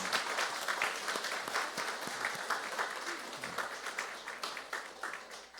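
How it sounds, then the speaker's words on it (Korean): Applause from a church congregation welcoming two deacons at Sunday worship, steady dense clapping throughout, moderately distant and fairly soft, with no voices over it. "부담스럽지 않게 큰 박수로 환영해 주시면 감사하겠습니다."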